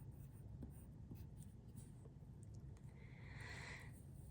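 A pen writes a word on paper, giving faint scratchy strokes that become a brief, brighter scribble near the end over steady low background hum.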